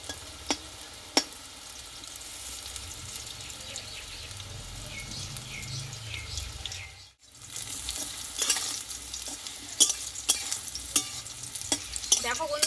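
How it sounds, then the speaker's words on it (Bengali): Brinjal frying in hot oil in a pan for a Bengali begun ilish dish, a continuous sizzle with spatula stirring and scraping. The sizzle cuts out briefly partway, then resumes with sharper clicks. "তিন থেকে চার মিনিট মতো তেলে ভালোভাবে একটু ভেজে নিতে হবে যাতে একদম নরম হয়ে যায়"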